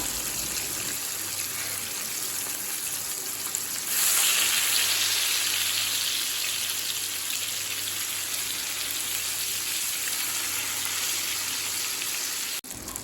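Fish coated in masala fries in a pan with a steady, close broadband sizzle lasting throughout, swelling louder for a few seconds partway as the pieces are turned, then settling back to an even hiss.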